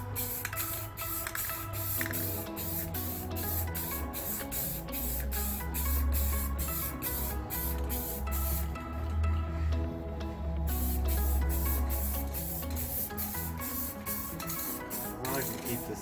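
Spray paint is applied to metal body armor for a Jeep Grand Cherokee ZJ. A steady, close hiss runs throughout with regular pulsing over a faint tonal background.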